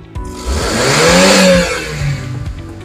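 A Maven car engine revs up loudly close by, its pitch rising to a peak around 5000 RPM and then dropping back to a rumbling idle.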